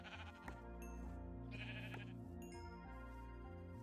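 Minecraft sheep bleat several times in short, nasal calls over steady in-game background music, fairly close, with no talking.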